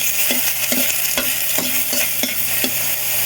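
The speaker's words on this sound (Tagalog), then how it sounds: "igigisa natin siya sa sarili niyang mantika" Pork sautéing in its own rendered fat in a pan, a steady close sizzle punctuated by regular scraping strokes of a spatula, several evenly spaced, with no talking.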